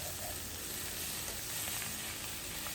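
Bok choy and garlic stir-fry in a pan at home, giving a steady, fairly soft sizzle and crackle that runs without a break, with faint stirring under it and no talking.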